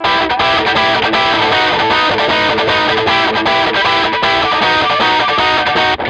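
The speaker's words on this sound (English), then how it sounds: "Now this is the blues pedal just on its own, turned all the way up, and just sounds like this." Electric guitar through a blues overdrive pedal cranked all the way up, a loud, dense, saturated distorted riff of steady chugging strums with a slight chorus-like shimmer, playing continuously alone with no talk.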